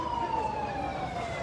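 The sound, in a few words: ambulance siren trying to pass a police checkpoint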